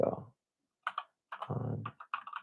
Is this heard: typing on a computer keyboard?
yes